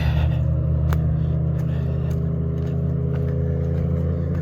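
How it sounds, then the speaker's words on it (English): Road traffic rumbles past in a constant low engine drone, with faint clicks and knocks over the steady hum. "You can hear the traffic."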